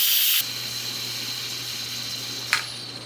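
Steam from a pressure cooker escapes through its toggle valve. A loud hiss comes first and then stops abruptly, a lower steady hum carries on, and a short second puff of hiss comes later.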